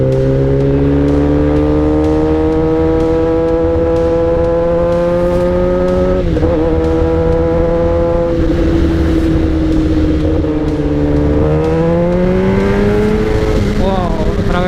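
A Kawasaki ZX-10R motorcycle revs loudly as the throttle is opened, its steady multi-harmonic engine note rising and falling through gear changes across the whole stretch, with no talk over it.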